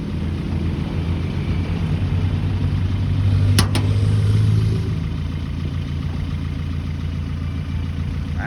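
A 2020 Toyota Revo pickup with a 2.4 engine running, giving a steady low idling rumble that swells briefly louder midway and then settles back, close and alone with no speech.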